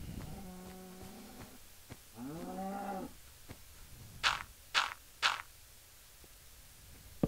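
Cows in the Minecraft video game give two drawn-out, low moos close by, followed by three short, sharp bursts of sound and faint background noise.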